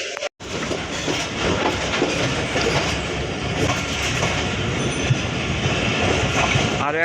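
The Barendra Express pulling out of Saidpur station toward Rajshahi gives a steady, loud rumble with continuous clickety-clack of wheels on rails, heard from on board, with no talk.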